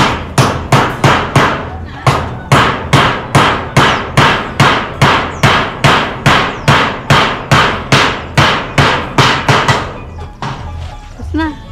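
Nails driven with a hammer during storm preparation on a house: loud, close, evenly spaced blows, about two per second, keep going for roughly ten seconds before trailing off.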